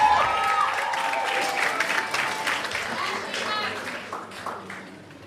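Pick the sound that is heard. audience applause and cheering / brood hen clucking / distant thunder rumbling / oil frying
audience applause and cheering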